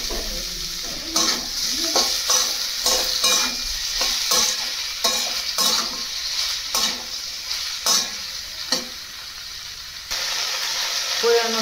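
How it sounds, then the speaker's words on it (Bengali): Soybeans going into a spiced masala frying in a pan bring a loud, close sizzle with repeated scraping stir strokes and clatters throughout. "সয়াবিনগুলো ঢেলে দেবো"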